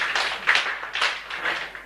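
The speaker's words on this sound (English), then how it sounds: "If you're happy and you know, clap your hands." An outdoor farmers' caravan audience claps along to a children's song, with a few scattered, fairly close claps falling in a loose, uneven rhythm over about two seconds.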